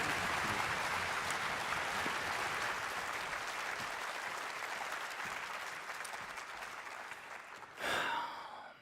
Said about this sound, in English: Let's have one more huge round of applause for Francesco and Freya.